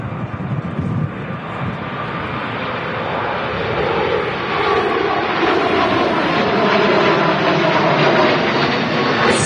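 Three-year-old Turkish Airlines Airbus A321neo jet departing Manchester Airport for Istanbul, a steady broadband engine roar that builds slightly and holds loud throughout, with no talk.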